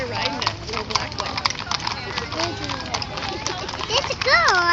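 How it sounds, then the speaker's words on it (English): Small hooves of a little black miniature horse clip-clop along a downtown street during a cattle drive, with a child riding it, under steady crowd chatter and nearby voices talking. "here comes another miniature horse"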